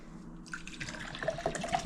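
Stream water collected in the backcountry splashes into a cup in a short, close, trickling pour with a few bright drips and gurgles.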